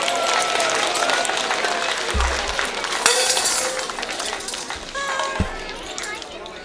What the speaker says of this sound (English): All right, give yourself a round of applause.